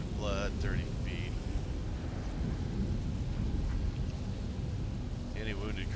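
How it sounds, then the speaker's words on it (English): Rain of blood spell effect from the video game Pathfinder: Wrath of the Righteous, a continuous dense rain-like wash with low thunderous rumble throughout, with brief speech at the start and end. "Rain of blood, 30 feet."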